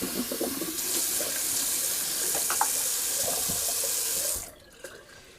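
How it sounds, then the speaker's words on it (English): A bathroom tap runs into the sink to rinse it, with a steady close rush of water that stops abruptly near the end, leaving faint drips, and no one speaks. "Just gonna rinse the sink."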